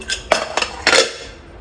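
Metal pots and a pressure cooker clank in a home kitchen as dal is put on to cook: three or four close, bright metallic knocks and scrapes in quick succession, with no talking.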